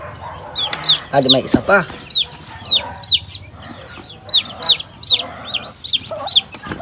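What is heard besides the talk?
free-range hen and chicks clucking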